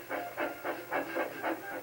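The steam engine Gordon in Thomas and Friends hisses out a rhythmic series of about seven breathy steam puffs, steady and fairly loud, as it readies to back onto its train.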